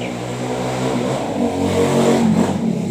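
A mid-sized motorcycle engine starts close by and revs up after a starter ground-wire fix, its rumble growing louder and rougher over a few seconds.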